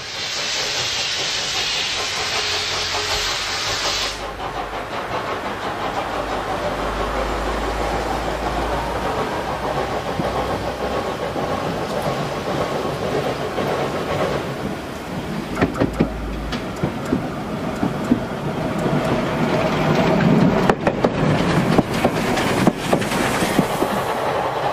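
A special steam train on the Fichtelbergbahn narrow-gauge railway in Saxony, heard loud and close with continuous hissing steam, chuffing and rhythmic wheel clatter over about twenty-five seconds, with no voices.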